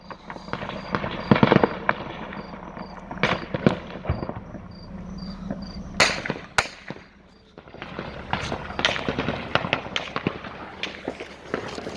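Machine gun fire sounds during a shooting in the village of Maksat in Leilek, with sharp cracking bursts and scattered single shots over steady outdoor background noise.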